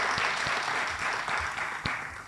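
An audience at the Beeston Awards 2019 applauds the award finalists, a steady wash of many hands clapping with a few louder individual claps standing out, sustained throughout.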